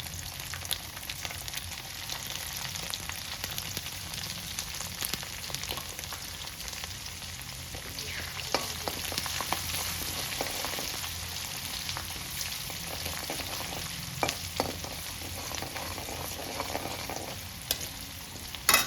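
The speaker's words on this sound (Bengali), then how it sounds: "যতক্ষণ রসুন ভাজা হচ্ছে একটু গল্প করা যাক।" Garlic fries in a pan with a steady, even crackling sizzle, close and continuous, with occasional stirring knocks and scrapes scattered through, no talking.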